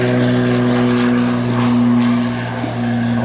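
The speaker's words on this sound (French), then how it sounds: "Il y a un avion qui décolle en arrière." A propeller airplane takes off behind the camera at a fishing outfitter's air base, its engine a loud, steady drone throughout with no talking.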